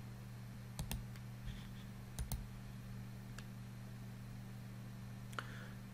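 A few sharp computer mouse clicks, some in quick pairs, spaced irregularly over a steady low electrical hum, close and fairly faint.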